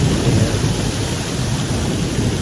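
A mountain thunderstorm on Black Elk Peak, South Dakota, fills the air with loud, continuous rain and a deep rolling rumble of nearby thunder, dense and unbroken throughout with no voices.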